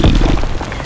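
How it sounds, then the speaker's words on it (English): A grenade explodes in a zombie shooter game, a loud, close, deep blast that booms and then rumbles away over under a second. "Grenade."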